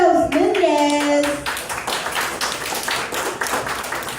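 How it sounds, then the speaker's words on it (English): Audience applause for a comedian at an open mic night at the Salty Frog, steady clapping from a small crowd following a brief voice at the start. "Stop applauding"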